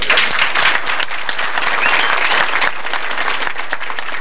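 An audience applauds for the riders of the 1998 cross-Canada snowmobile ride: dense, loud, steady clapping from a crowd that holds at full strength for about four seconds, with no voices breaking through.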